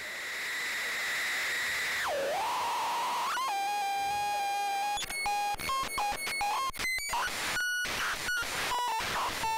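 White noise shaped by a synthesizer module, swept into a dipping pitched tone, then chopped into rapid rhythmic bursts and glitchy stepped tones, loud and electronic.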